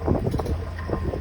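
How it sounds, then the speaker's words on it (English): Gusty wind buffets the microphone outdoors in an open pasture at a wildlife park, a steady low rumble with uneven surges throughout and no other clear sounds. "Whew, this wind."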